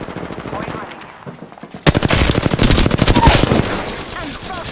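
Rapid automatic gunfire from the Apex Legends video game bursts in after a quieter opening, sustained loud rattling shots lasting a few seconds, with a player's voice speaking underneath.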